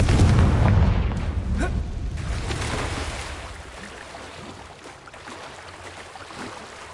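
A Confringo fire spell explodes in Hogwarts Legacy, a loud low boom that rumbles at the start and slowly fades into a lingering roar over several seconds.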